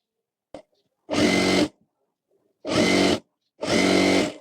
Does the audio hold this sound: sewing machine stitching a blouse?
yes